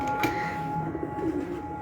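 Pigeon cooing among pet pigeons, a soft low warbling coo repeated a couple of times over a steady background hum, fairly close and without speech.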